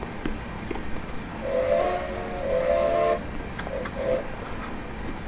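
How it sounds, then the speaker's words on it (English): The steam whistle of a Machine Rail 1907 EFCB 0-6-6-0 locomotive in Train Simulator Classic sounds in a few sustained blasts of differing length, then a short toot, distant and mid-loud over rumbling running noise. "But man, that whistle sounds awesome."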